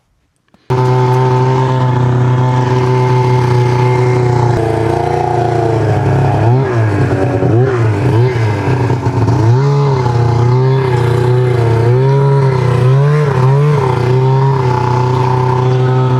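A blown-up, cheaply repaired Ski-Doo snowmobile engine starts abruptly and holds a loud, steady idle close by, with repeated throttle blips that swoop the pitch up and down, continuous for the whole stretch with no talking.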